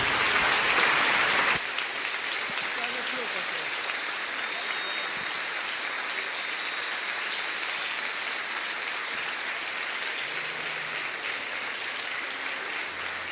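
A church congregation applauds in a steady, sustained wash of clapping that opens loud for a moment and then settles into an even roar for the rest of the stretch.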